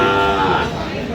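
A cow lows loudly and close by at a rural cattle market in Aftabganj, one long sustained moo filling the whole moment with faint crowd murmur behind it.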